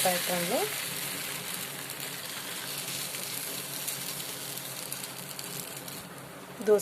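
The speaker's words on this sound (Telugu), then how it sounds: "ప్యాన్ బాగా వేడయ్యాక పెసరపిండిని తీసుకుని ఇలా దోశ" Moong dal dosa batter hisses and sizzles steadily on a hot pan, a dense, close crackling that runs the whole time with a faint clink at the start and end.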